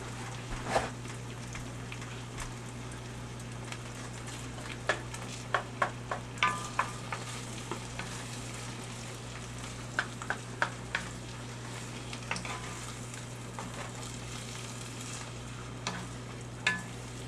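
Food being stirred and mixed in a frying pan, with irregular scraping clicks and taps of a utensil over a low steady hum and faint sizzle.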